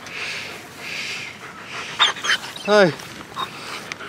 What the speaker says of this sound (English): I have no idea where this dog came from